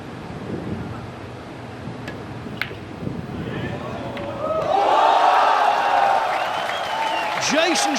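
A crowd at a pool tournament in Hanoi breaks into loud applause and cheering partway through, after a stretch of quieter murmur. A commentator talks over the crowd.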